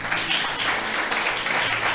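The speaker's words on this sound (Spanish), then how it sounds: "¿Cuántos le aplauden a Dios por esto," Congregation at a Spanish-language church service applauds, a continuous, even patter of many hands clapping for a couple of seconds at a steady moderate level.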